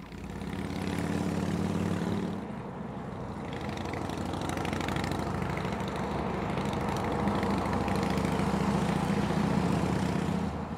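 A motorcycle engine idles steadily with a low, continuous rumble that holds close and loud throughout, with a brief shift in tone early on.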